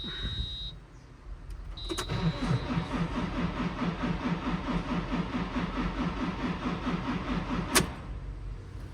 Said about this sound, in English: I just want to see if this starts now